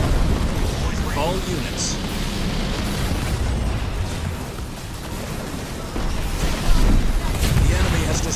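Artillery shells exploding in the video game Halo Wars 2, a dense stretch of booms and blasts under battle noise, with a voice speaking briefly over it.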